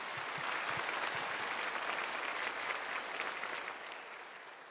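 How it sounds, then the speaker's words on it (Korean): A church congregation at a New Year Sunday service gives sustained, dense applause for its 2025 officers, a broad roar of many hands that holds steady and then eases slightly toward the end. "2025년 임원분들을 위해서 다시 한번 큰 박수 해주시겠습니다"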